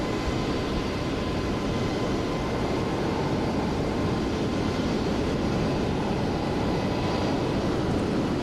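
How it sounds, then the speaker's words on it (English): Jet airliners burning Jet A taxi and run their engines around an airport ramp, making a steady, loud, close broadband roar that continues unbroken with no talk. "You guys can already hear the airplanes around us moving around, the Jet A burning."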